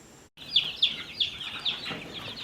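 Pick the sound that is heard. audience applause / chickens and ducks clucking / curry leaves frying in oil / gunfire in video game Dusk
chickens and ducks clucking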